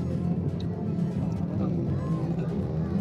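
Off-road vehicles run on a dirt track, a steady broadband engine rumble holding throughout at moderate distance, with a person talking over it.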